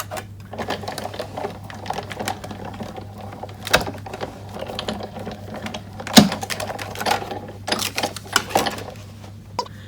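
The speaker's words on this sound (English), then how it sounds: "I'm going to bring the big shot in and we're going to just die cut that nested framelit there." A Big Shot die cutting machine runs a nested framelit die through, giving faint, irregular mechanical clicks and clacks with a few sharper knocks in a quiet room.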